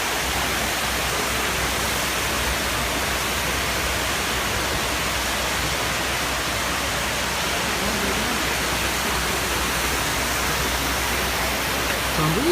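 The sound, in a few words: water flowing into the 9/11 memorial fountain pools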